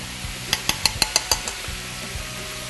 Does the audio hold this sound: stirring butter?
yes